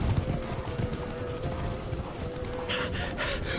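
Roach the horse gallops in Witcher 3, a steady rhythmic drum of hooves with a rushing breathy backdrop at moderate level, growing brighter and more pronounced toward the end.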